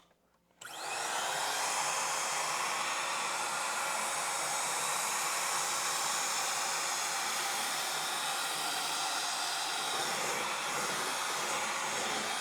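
A Eureka Blaze 3-in-1 stick vacuum switches on and runs, jumping to a steady loud whooshing motor roar that holds without a break for around twelve seconds.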